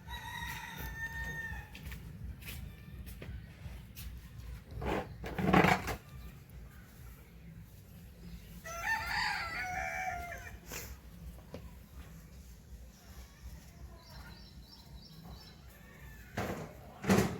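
Roosters crow in a rural village yard where corn cobs are laid out to dry under a cloudy sky, with several crows and clucks near and farther off across a quiet, steady outdoor background.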